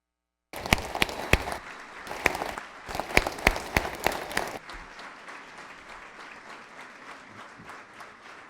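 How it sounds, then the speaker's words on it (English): Hearty applause from the audience at the dedication of the Earl Lloyd statue and opening of the Walker Convocation Center at WVSU, loud with sharp individual claps for about four seconds, then settling into a steadier, quieter patter. "let's have one more hearty round of applause for everybody this event"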